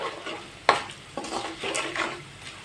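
Two dried red chillies crackle and sizzle briefly in hot oil as the stove is switched off, with a sharp scrape or stir clink and a fading hiss.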